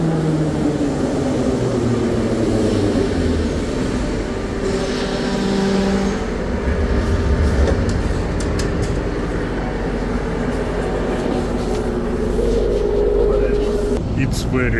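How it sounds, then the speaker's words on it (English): An old subway train in Kyiv rumbles and rattles loudly from close by, with low droning motor tones, squeals and shifting clatter throughout, and voices talking over it. "It's very old train."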